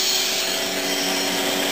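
An explosion-proof soil vapor extraction system runs steadily under vacuum test, holding at roughly 6-7 inches of mercury and drawing about nameplate amperage. Its blower gives a loud, constant broadband whir with a steady tonal hum, with no speech.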